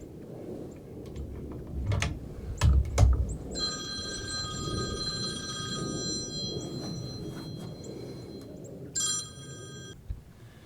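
Telephone ringing indoors during a 1000-yard muzzleloader shooting test session, a bell-like ring with sustained electronic tones from about 3.5 to 7 seconds and again near 9 seconds, over low background rumble and occasional thumps.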